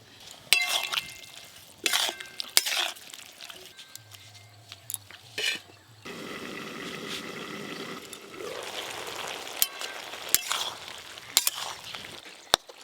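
Radish greens are stirred in a pan over a village clay stove. Clinks and scrapes of a utensil come at irregular intervals, and a stretch of softer hissing sizzle runs through the middle.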